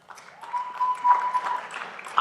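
A brief, moderately loud burst of clapping from an audience at an ALS Association chapter talk, a dense patter lasting about two seconds.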